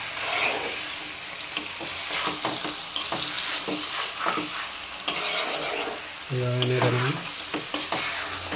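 Potatoes stirred into chicken curry frying in a pan on the stove, with a steady sizzle and repeated scraping stir strokes, close and moderately loud, and no talking.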